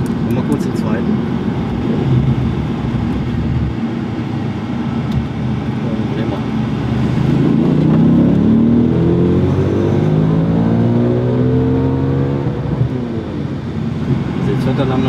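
An Audi RS4 B7 estate pulls hard in second gear, its engine note climbing steadily in pitch as it accelerates. The sound is loud and continuous from inside the cabin, with people talking over it.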